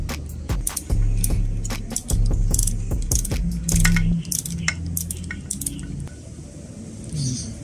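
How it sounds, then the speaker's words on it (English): An Allen wrench clicks and ratchets against a side mirror screw while a mirror is fitted to a Honda Click 125i scooter, giving repeated sharp metallic ticks and scrapes close up, with a steady low hum in the background. "Diyan gagamit tayo ng Allen wrench."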